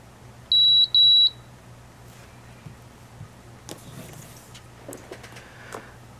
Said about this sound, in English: Okay, the timer just went off